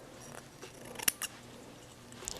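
Scissors cutting wig lace, a few faint close snips in quiet surroundings.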